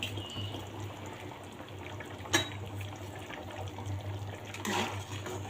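Liquid pours into a cooking pot of wheat khichuri on a lit stove, a steady trickling flow under a low hum, with one sharp clink midway and a slightly louder splash near the end.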